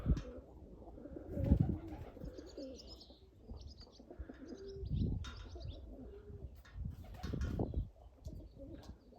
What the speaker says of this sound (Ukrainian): Голуби на самовигулі.